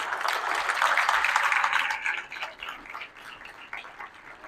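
An audience applauds a researcher at a seminar, a burst of dense, moderately distant clapping that thins out after a couple of seconds into scattered claps.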